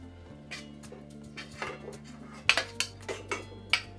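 Cooked capsicum is shifted from a pan onto a plate, giving a series of sharp metal-on-metal clinks and scrapes from a spoon against cookware, close by over a low steady hum.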